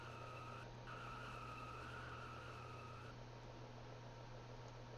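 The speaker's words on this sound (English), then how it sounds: "Oh, Jubb's doing burnouts." A car in a racing video game doing burnouts, giving a steady, faint tyre-screech whine over a constant engine drone that cuts off partway through.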